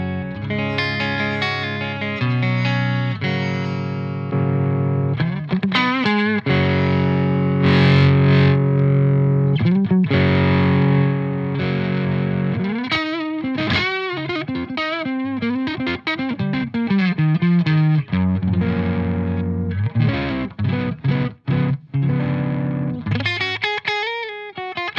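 An electric guitar through a Marshall DSL overdrive pedal plays a mildly overdriven, distorted riff of sustained chords and single-note lines, loud and continuous with no talking.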